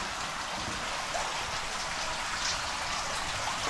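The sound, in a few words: rain falling outside flax mill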